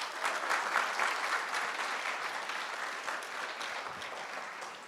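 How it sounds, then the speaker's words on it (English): Sustained applause from a crowd celebrating a graduating guide dog class, Class OR521 of Guide Dogs for the Blind, steady dense clapping filling the whole stretch and easing slightly toward the end. "Let's give them a round of applause."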